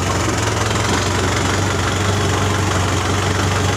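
A Kubota M6040 tractor engine runs steadily during gear shifting, a loud, close, continuous diesel rumble with a rhythmic knocking throb that holds constant throughout.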